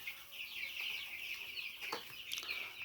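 Many broiler chickens cluck and chatter together inside a poultry shed, a dense, continuous chorus at moderate distance with a few sharper calls standing out.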